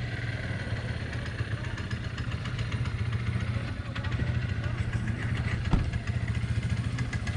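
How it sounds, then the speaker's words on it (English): Snowmobile engines run at a grass snowmobile race in the fall, a continuous mid-pitched rumble with a faint clatter that holds steady throughout, close and fairly loud with no clear voices. "We are at a snowmobile race."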